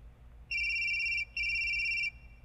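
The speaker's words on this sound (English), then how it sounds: "When receiving a call, a notification sounds." A Mazda3 Bluetooth hands-free system sounds an incoming-call tone: two clear electronic beeps of equal length, close and steady, over a low background hum.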